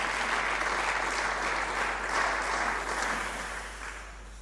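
Warm, sustained applause in a plenary assembly honours a retiring general, a thick wash of many hands clapping that holds steady and then gradually tapers off, with a faint low hum underneath.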